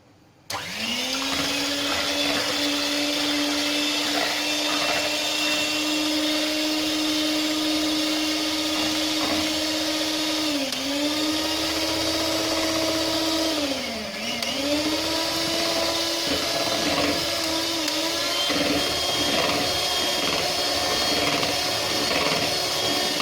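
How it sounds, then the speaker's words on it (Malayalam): A handheld electric mixer beats Oreo cake batter at low speed, a loud steady whirring motor hum lasting the whole stretch with brief dips in pitch as the beaters drag through the mix; no voices. "ആദ്യം ലോ സ്പീഡിൽ ഇട്ടിട്ടൊന്ന് ബീറ്റ് ചെയ്തെടുക്കാം"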